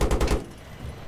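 An AH-1Z Viper attack helicopter in Battlefield 3 Armored Kill fires a short rapid burst of about four heavy shots, loud and close. The burst stops abruptly and is followed by a quiet, low rumbling tail.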